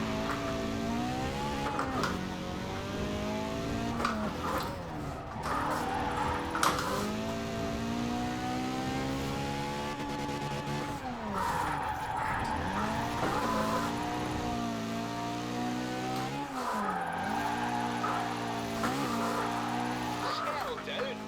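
Drift car in Forza Horizon 4 with an engine revving and rising and falling in long sweeps, tires squealing through slides, and someone talking throughout.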